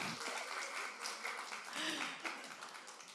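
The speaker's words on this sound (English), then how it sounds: "Can we have a round of applause for everyone's here?" Audience applause at a pavilion talk on community-based climate action, a fairly faint, steady wash of clapping with some voices mixed in.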